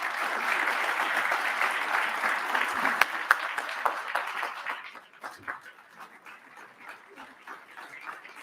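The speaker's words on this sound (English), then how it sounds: "Let's give her a round of applause." A luncheon audience breaks into loud, sustained applause that fills the room, then thins into scattered claps and fades over the last few seconds.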